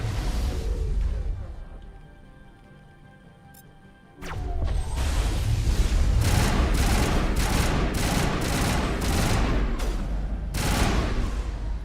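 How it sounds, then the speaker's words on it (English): Rockets and explosions fired in the video game Mass Effect 1 burst in loudly after a quieter stretch, a rapid run of sharp blasts and crashing impacts repeating for several seconds, close and dense. "Who the heck's firing rockets?"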